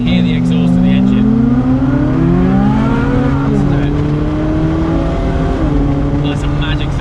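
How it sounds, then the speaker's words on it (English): Rare Ferrari Sergio engine exhaust while driving, a loud, continuous drone with rising and falling revs, heard from on board over the full seven seconds. "you can really hear the exhaust of the engine"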